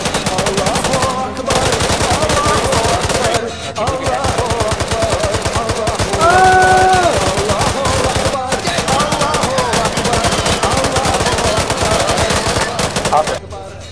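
Video game machine gun fire rattles in long, loud, continuous bursts with only a couple of short pauses, and brief voices come through amid the shooting.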